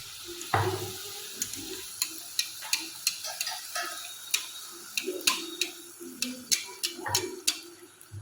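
Luchi deep-frying in hot oil gives a soft, faint sizzle broken by a series of sharp, evenly spaced light clicks and taps from a utensil nearby.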